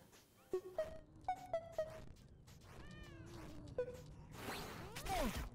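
Cats in the game Mayhem in Single Valley meow in a rapid string of short, sharp cries, then longer drawn-out wails, fairly close over a quiet background that swells into a noisy rush at the end.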